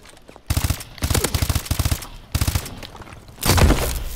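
Automatic weapon fire in the Call of Duty: Advanced Warfare video game comes in several loud, rapid bursts with short gaps between them, ending in a heavier, boomier blast.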